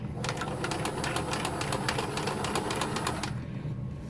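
A sewing machine stitches a zigzag along a bookbag strap, rattling in a quick even run of needle strokes for about three seconds before stopping, close by and fairly quiet, with no talking.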